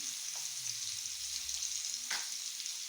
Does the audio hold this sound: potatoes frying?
yes